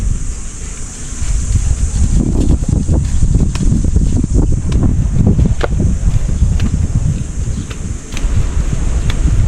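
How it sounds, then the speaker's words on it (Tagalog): Strong amihan (northeast monsoon) wind in a rural Philippine field roars and buffets the microphone continuously, with heavy low rumbling gusts and scattered rattling clicks, no speech. "Sobrang lakas ng hangin."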